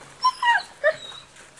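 A Dogo Argentino at a breeding kennel gives several short, high whimpers and yips, close and fairly clear, in brief bursts with quiet gaps between them.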